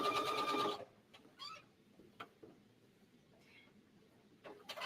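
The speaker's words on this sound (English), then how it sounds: "Yes, I'm top stitching." A sewing machine runs a regular straight top stitch in a short, fast, buzzing burst lasting under a second, followed by quiet, with faint clicks and light handling noises.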